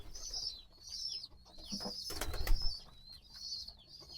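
Pigeons in a pigeon house give soft throaty coos that recur every second or so, with a brief flurry of flapping wings and shuffling near the middle, close and moderate in volume.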